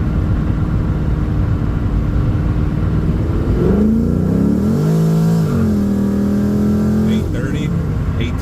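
A Pontiac GTO sports car's engine revs hard while driving, climbs in pitch, drops through a gear shift and pulls steadily again, loud and close from the cabin.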